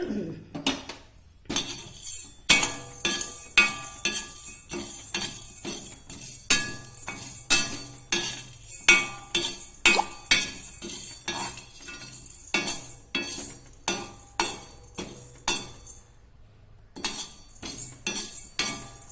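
Chana dal is tipped into a metal pan and stirred for roasting: repeated sharp scraping and clinking of a spoon against the pan in an irregular rhythm, close and loud, with brief pauses.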